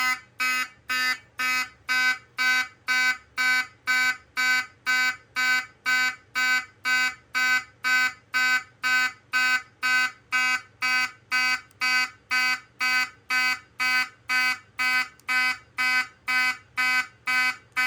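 Wheelock fire alarm horns mounted on a demo board blare in a steady pulsing pattern, roughly thirty evenly spaced buzzing blasts with short gaps, loud and unbroken throughout.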